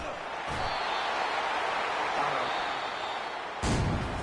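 A loud, sustained stadium crowd roar at a Washington vs Texas football game, a steady broadband wall of noise punctuated by a couple of sharp thuds.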